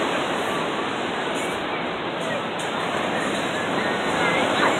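Surf at Crescent Bay beach in Laguna Beach, California, rolls in as a loud, continuous roar of breaking waves, filling the whole stretch without pause.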